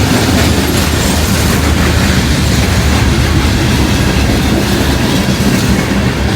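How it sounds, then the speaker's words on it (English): A long coal train with heavily loaded cars passes close by in Princeton, Indiana, a loud, steady rumble of wheels and cars with faint clickety-clack, continuous throughout and free of talk. "I'm kind of looking for a end of the train rumble here in a way."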